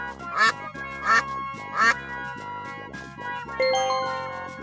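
A mother duck in a children's story quacks three times in a steady rhythm, loud and close, followed by a bright chime-like jingle.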